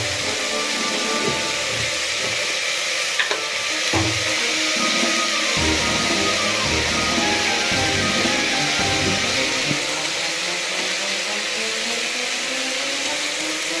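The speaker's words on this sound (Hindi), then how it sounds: "अब इसको दो मिनट तक भूनेंगे।" Chickpeas (channa) fry and roast in a hot pan for a dhaba-style dish, giving a steady, dense sizzling hiss throughout with scattered small crackles and no talking.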